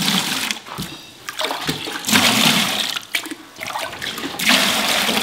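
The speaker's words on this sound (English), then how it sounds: "Let's put a little water in the bottom." Water gushes and splashes into a mixing bucket in a few loud, uneven bursts with short pauses between them, while preparing Durabond 90 for plaster and drywall work.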